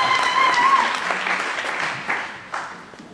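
A church congregation applauding, a dense wash of clapping that starts full and gradually thins out over a few seconds.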